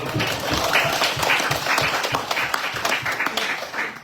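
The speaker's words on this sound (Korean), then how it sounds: "여러분 자신에게 박수를 보내시죠." A church congregation in Taipei applauds during a sermon, the rhythmic clapping of many hands dense and fairly close, continuing steadily before tapering off.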